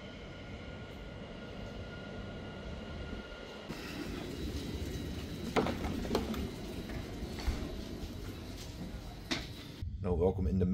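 A Keolis Protos passenger train running in the Netherlands, heard from on board: a steady low rumble and hum of the moving carriage with occasional clunks and rattles, and a person talking over the ride noise.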